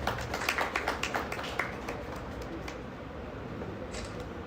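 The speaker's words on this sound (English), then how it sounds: "Please give them an applause." Audience applause at a conference session, a short burst of scattered hand clapping from a modest crowd that fades after a couple of seconds into room tone.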